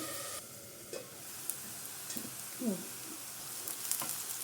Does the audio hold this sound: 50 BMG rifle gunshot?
no